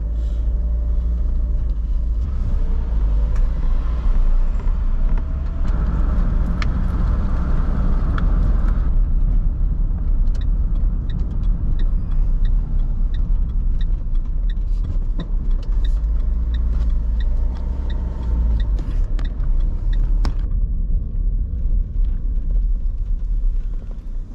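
Steady road noise from inside a moving car, with a continuous low engine rumble and tyre hum that stays loud throughout, punctuated by occasional faint clicks and small bumps; no one speaks.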